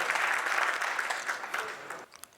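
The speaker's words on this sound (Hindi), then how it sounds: "अरे ताली बजा कर एक बार बता बिल्कुल दीजिए" An audience at a Hindi poetry gathering claps in a loud, dense burst of applause that fades out over about two seconds, ending with a few scattered claps.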